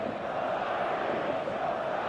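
A stadium crowd in the eFootball video game chants and roars as a steady, dense wall of voices, loud and unbroken for a couple of seconds.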